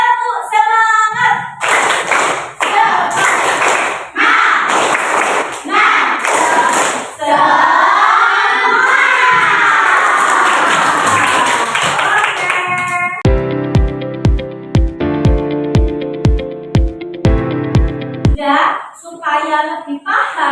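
Children in a classroom clap a rhythmic chant together, with loud bursts of claps and voices, then a run of sharp, evenly spaced claps before chatter resumes.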